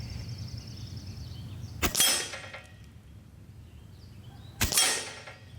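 Two sharp shots from an Evanix Max Air II regulated PCP bullpup air rifle, each a crisp crack with a bright metallic ring of the pellet hitting the bullseye, a few seconds apart, over faint background hum.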